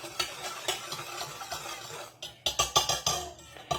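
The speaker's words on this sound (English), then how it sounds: "you want to stir it up a little bit" Pickle brine with sugar and Kool-Aid is stirred in a container, making a steady run of swishing, scraping strokes that grow louder and sharper toward the end.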